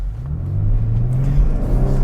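A 2022 Kia Stinger launches hard from a stop, its engine rising into a deep, loud, climbing drone with growing rumble heard from inside the car.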